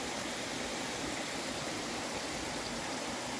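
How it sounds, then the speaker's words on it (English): Ivy Creek flows alongside a steep Appalachian Trail climb, a continuous, even rush of water close by with no voices. "As I'm ascending alongside the stream here still."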